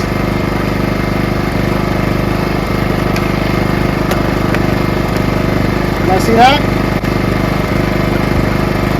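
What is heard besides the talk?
PowerSmart portable generator engine running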